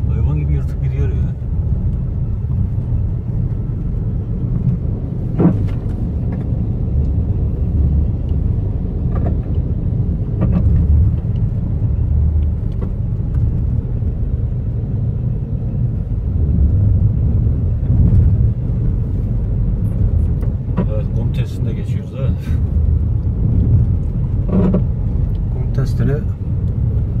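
A Suzuki Vitara S engine drives across sand with a continuous loud low rumble throughout, punctuated by occasional knocks and rattles from the cabin. Faint voices may be present beneath the engine noise.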